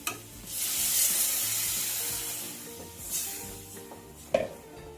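Tamarind water hisses and sizzles loudly as it hits a hot pan of vaththal kulambu, settling into a bubbling simmer, with a couple of clinks of a utensil.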